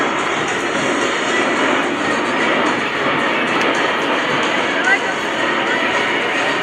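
A C-17 Globemaster III flying a demonstration at the Great Texas Airshow gives a steady, loud jet roar throughout, with an announcer talking over it.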